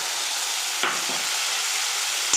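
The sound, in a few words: soaked masoor dal sautéed in oil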